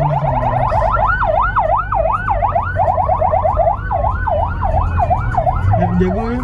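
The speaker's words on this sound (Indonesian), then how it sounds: "Ambulans tuh kayaknya." An ambulance siren wails loudly nearby at a street car meet, alternating fast yelping bursts with slower rising and falling sweeps over steady traffic and motorcycle rumble.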